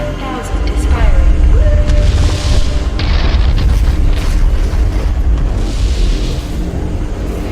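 Heavy, sustained booming roar of the BFG 10,000 firing in a Doom game trailer, a dense continuous low rumble with rising tonal sweeps and bursts layered on top.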